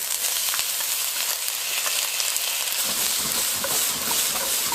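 Onions and carrots hit a hot wok for fried rice, a loud, steady close sizzle with crackling pops and occasional stirring scrapes.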